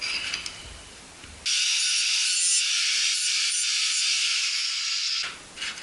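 A handheld angle grinder works metal practice pieces on a bench, cutting in loudly after a quiet start and holding a steady, harsh, high-pitched whine for about four seconds before stopping.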